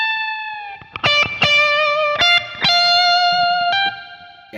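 Electric guitar plays a lick with second-finger fingering, sustained effected notes broken by a few quick picked attacks and bends, played alone and close.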